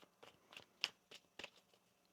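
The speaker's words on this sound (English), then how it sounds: "One more shuffle." Soft riffling of tarot cards being shuffled, a few quick rustling bursts in an irregular rhythm, quiet and close.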